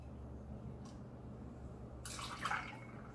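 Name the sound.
pouring cognac into a glass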